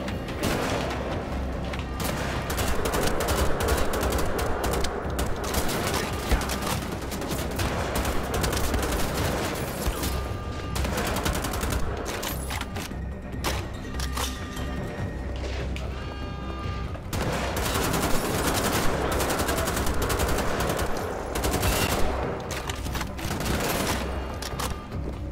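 Dense, continuous video game gunfire from Wolfenstein: The Old Blood, with rapid shots and booms layered over a busy combat soundscape that barely lets up for the whole stretch.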